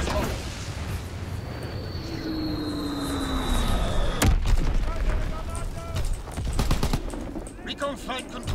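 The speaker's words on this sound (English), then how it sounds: "Fighter pilot inbound, strafing the target" Aircraft gunfire in Call of Duty WWII multiplayer as a fighter plane strafes the target: loud bursts of rapid fire with a falling engine whine and a sharp crack, then continued shooting and booms, with talk over it.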